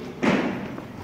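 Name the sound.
hand slamming a quiz bell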